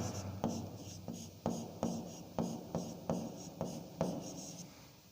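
Chalk or a marker strikes and rubs against a board in a string of short, evenly spaced strokes, about ten in quick succession, close and fairly quiet with no talk.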